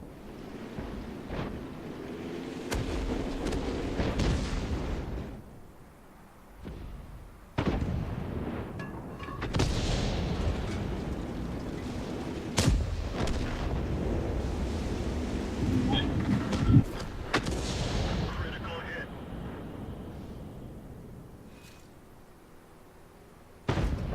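Artillery fire in the World of Tanks video game, with deep booming blasts and rumbling impacts that recur across a windy, surf-like battlefield ambience, while players talk at times.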